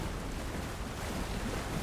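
Steady watery wash and ambient swirl while wading through water in the horror game Alan Wake 2, a faint, even rush with no distinct splashes, heard alone without talk.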